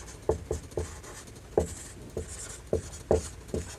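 Pen or chalk writing by hand during a physics lesson on concave mirror numericals, a series of short taps and scratchy strokes in an irregular rhythm, close and fairly quiet, no talk.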